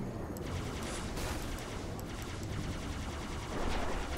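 Turret firing in Halo 2, a dense continuous barrage of rapid shots, loud and steady, swelling slightly at the end.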